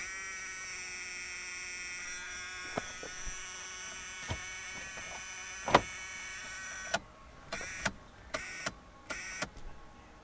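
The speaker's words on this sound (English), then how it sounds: "All I get is this buzzing noise." A low electrical buzz hums steadily inside a small Japanese roadster from the faulty wiper switch, followed by several short bursts of louder buzzing switching on and off in quick succession while the wipers fail to run.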